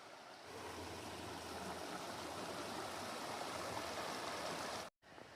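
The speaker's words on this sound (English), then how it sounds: "There's Milton Creek." Milton Creek rushes steadily along a hiking trail, a constant broadband wash of flowing water heard close and alone for several seconds before a brief cutoff.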